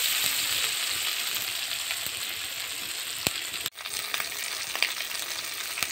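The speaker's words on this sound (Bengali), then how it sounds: "1 চামচ লবণ, 1 চামচ হলুদের গুঁড়ো দিয়ে এইভাবে নেড়ে নেব" Salt and turmeric are stirred into hot oil in a frying pan. A steady close sizzle runs throughout, with light scraping from the stirring and a brief clink near the middle.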